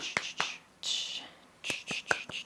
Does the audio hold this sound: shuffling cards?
no